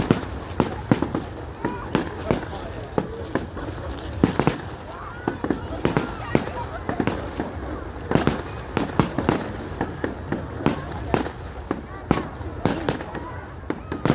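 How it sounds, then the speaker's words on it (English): Bonfire night fireworks crack and bang repeatedly at irregular intervals, some sharp and near, others more distant, over a noisy outdoor background with people talking. "Apparently they say it's like a million pound firework."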